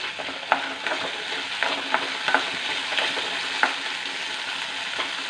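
Okra sautéing in a pan for a homestyle sambar, a steady broadband sizzle with scattered sharp stirring clicks and scrapes close by, no voices.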